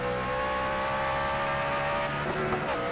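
A race car engine at the Charlotte Roval, a loud continuous high-pitched whine as the car drives off the exit, with a brief pitch shift near the end and no talk over it.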